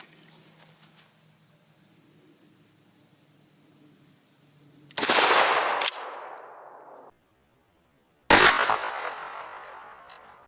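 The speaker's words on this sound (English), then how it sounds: "Let's take a shot at 15 yards." Two loud, close blasts from a Kel-Tec KSG 12 pump shotgun loaded with 00 buckshot, fired at a 15-yard target outdoors during a choke test. Each sharp report decays quickly, separated by a brief quiet gap, with crickets chirping faintly in the background.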